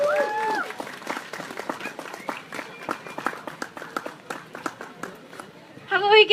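Outdoor crowd applause at an Earth Day festival in a Vancouver park, a steady patter of many hands clapping at moderate volume for several seconds, with voices mixed in and a brief louder burst at the end.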